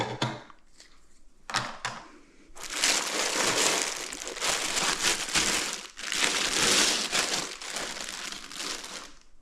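A plastic-wrapped Tesla Model Y rear seat tray is pulled from its box, giving a few sharp crinkles and then long bursts of loud, close plastic crackling and rustling.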